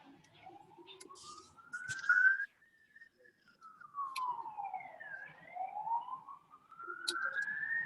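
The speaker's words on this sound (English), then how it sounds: "why there are police sirens?" A police car siren wails in slow rising and falling sweeps, repeating a few times at moderate distance, fairly faint with small clicks and noises around it and no speech.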